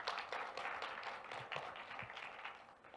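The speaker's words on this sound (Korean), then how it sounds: "더 큰 박수 부탁드리겠습니다." A conference audience applauds, a dense, steady wash of many hands clapping that holds at moderate level for about three seconds before easing slightly at the end.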